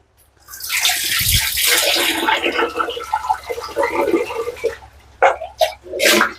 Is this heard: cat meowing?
no